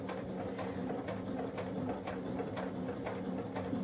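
A home sewing machine runs slowly through several thick layers of towel fabric on a straight stitch, a soft steady whir with an even thumping needle beat about twice a second, close and alone.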